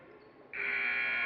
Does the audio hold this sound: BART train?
no